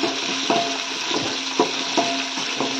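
Small onions sautéing in hot oil in a pan for a rock fish curry, a steady close sizzle broken by several sharp stirring scrapes and clinks of a utensil at irregular intervals.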